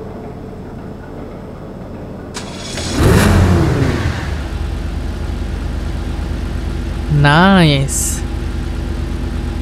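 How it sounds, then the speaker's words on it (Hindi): A car engine in GTA 5 starting up and revving, with a sudden loud surge early on, a steady engine drone throughout and a second rev burst later, while someone talks. "एक बार इंजन भी स्टार्ट करके देखता हूँ।"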